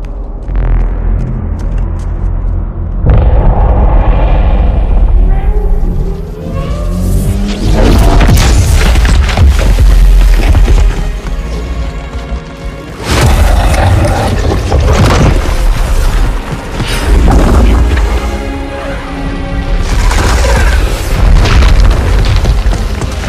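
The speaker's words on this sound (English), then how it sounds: "The fleet is preparing to fire on our position." Heavy explosions from a Covenant fleet bombardment in Halo 2: Anniversary, mission Regret, with loud booming blasts and rumbling debris repeating over some twenty seconds, near and overwhelming throughout.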